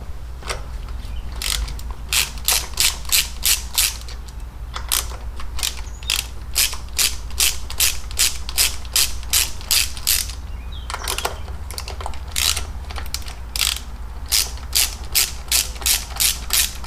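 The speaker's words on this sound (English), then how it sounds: "Now I got to take these 3 bolts out." Ratchet wrench clicking as 1/2 inch bolts come out of a 2006 Harley Ultra Classic during an air cleaner install: repeated close, loud bursts of rapid clicks separated by short pauses, with no talking.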